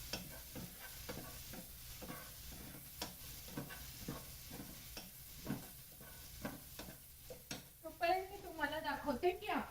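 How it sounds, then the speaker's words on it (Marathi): Onions soften in a pan for a Marathi dal shenga bhaji, giving a faint steady sizzle broken by repeated scraping stirs, with a voice speaking over the cooking. "कांदा जरा नरम करून घेते"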